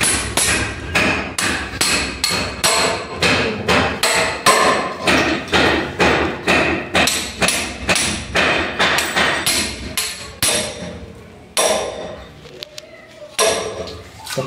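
Loud, close hammer blows knock pipes off a board, striking in a fast, steady rhythm of repeated heavy metallic thuds for most of the stretch before a few scattered final hits, with no talking.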